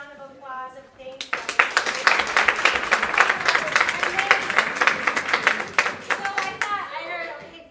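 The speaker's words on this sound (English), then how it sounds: "So if we can please give them a round of applause of thanks." An audience at a chamber music concert breaks into sustained, dense applause of thanks after brief speech, clapping building quickly, holding steady for several seconds, then thinning out as a voice returns.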